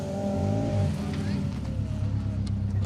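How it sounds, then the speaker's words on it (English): Subaru flat-four rally car on an asphalt rally stage, its low throbbing engine thrum idling and revving lightly at close range under a commentator's talk. "the thrum of that flat four"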